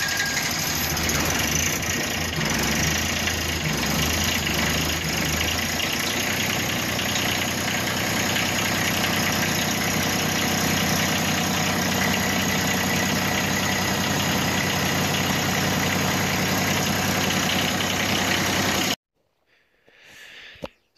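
A John Deere 1026R compact tractor's diesel engine idles after a cold start in snowy weather, with a steady, loud, close-up knocking rumble that runs unbroken for about nineteen seconds and then cuts off abruptly into near silence.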